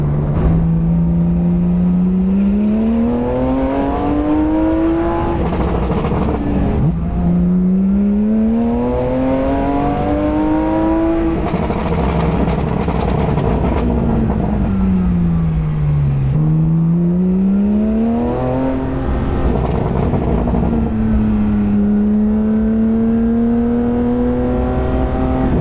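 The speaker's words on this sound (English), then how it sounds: "The burbles with the VRTuned, and obviously is just the way that GT3 engine sounds." A Porsche 992 GT3 with an ARMYTRIX exhaust and VRTuned setup accelerates hard through several gears, the engine note climbing loudly in repeated rising sweeps with burbles between shifts.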